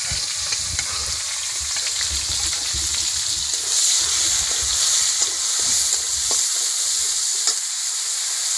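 Onion paste and tomato fry and sizzle steadily in a pan for a snail curry, a close, continuous hiss with faint stirring scrapes throughout and no talking.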